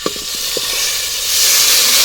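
Dal tipped into a sizzling tempering in a pan over a wood-fired stove: a few quick soft knocks and splashes open, then a loud, steady hiss of frying swells and fills the rest, with no talking.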